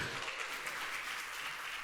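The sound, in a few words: church congregation applause for Bro Ebet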